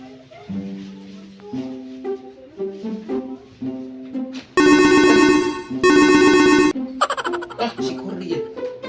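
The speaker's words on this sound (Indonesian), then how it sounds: "Telepon." A telephone ringtone sounds in two loud, sustained electronic bursts with a short gap between them, breaking in over music and talking voices in a Sundanese comedy sketch.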